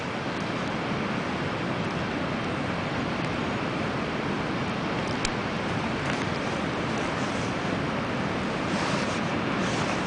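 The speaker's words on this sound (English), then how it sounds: "Look at those waves." Ocean waves roll and wash steadily on a calm, dry winter day, a dense unbroken roar of surf with faint wind noise and one brief tick partway through.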